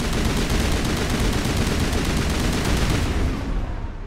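Sustained rapid gunfire from a firefight in the video game Mass Effect 1, loud and continuous bursts packed close together, tapering slightly at the very end with no talking.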